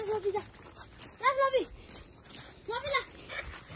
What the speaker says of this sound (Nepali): यहाँ चाहिँ कुकुरहरू चाहिँ ओभर थुप्रिरहेको रहेछ